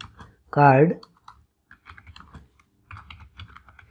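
Computer keyboard typing as text is entered into HTML heading tags while building a Bootstrap 5 card layout; soft, scattered key clicks come in short bursts, close and fairly quiet, with a brief louder vocal sound early on.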